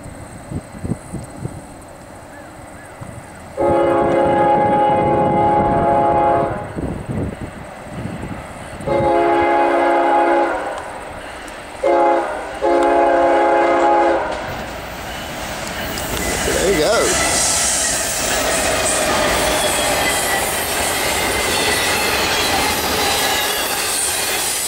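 Norfolk Southern intermodal freight NS 213, led by ES44DC locomotives at Archdale, sounds several loud, sustained horn blasts in a broken pattern, then passes close by with a steady rolling roar of wheels and cars.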